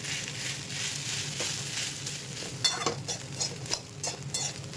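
Ground rice being stirred together with peanut spice powder in a bowl, a continuous dry scraping and rustling with a few sharper spoon clicks toward the end, close up and with no talking.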